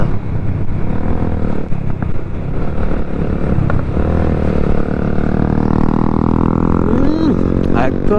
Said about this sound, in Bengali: জানি না এক্সস্টের সাউন্ড পাচ্ছেন কিনা।